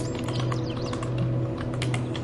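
Keystrokes on a computer keyboard while text is entered in Adobe XD, a quick irregular patter of close, soft clicks over a steady low hum, with no voices.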